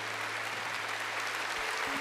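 Steady applause from a crowd, fairly faint and distant, with a low hum running underneath throughout.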